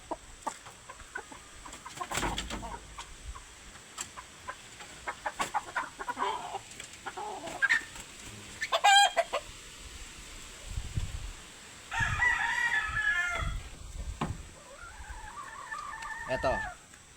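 Laguna Pumpkin Hennie chickens kept for breeding, clucking and calling in scattered bursts with a crow-like call near the end, over faint background noise and intermittent voices.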